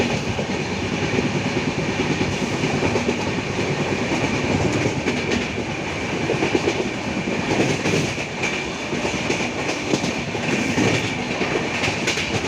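A train running loud and close as it picks up speed past Sudla Road station gives a constant roar with a rhythmic wheel clatter and rattling carriages throughout.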